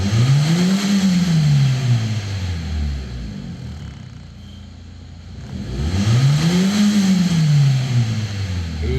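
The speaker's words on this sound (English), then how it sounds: "So let's get it warm, give it some revs and see if it's cured it." A warmed-up car engine being revved to check an oil pressure warning fault, two loud rising and falling revs separated by a quieter idle, heard close by.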